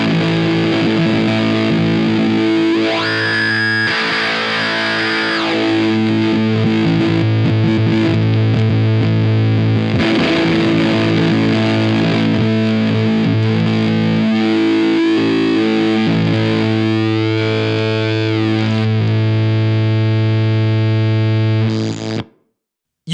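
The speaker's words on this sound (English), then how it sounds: "sweeping this changes some sort of characteristic of the fuzz" A guitar runs through a fuzz pedal, thick and distorted, while the pedal's frequency knob is swept so a filtered element rises and falls in pitch across sustained and chugging notes, loud and continuous with no speech.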